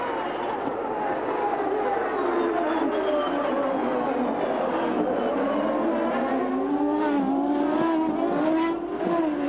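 IndyCar race cars roar past on the Surfers Paradise street circuit in Australia during the 1996 race, a loud continuous engine drone with rising and falling pitch as the cars pass, steady throughout.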